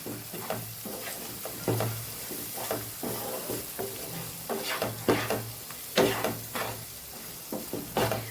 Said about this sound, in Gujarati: હવે અચાર મસાલો ભેળવશું એટલે આપણું અચાર પણ તૈયાર થઈ જશે સાથે સાથે હવે બધું મિક્સ કરી લેવાનું છે